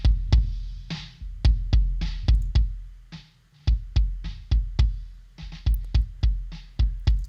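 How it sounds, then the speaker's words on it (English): A kick drum plays alone in a drum mix, with deep, punchy thumps repeating in a steady pattern, each with a short decaying tail and a brief gap partway through. "the kick by itself right now sounds like this"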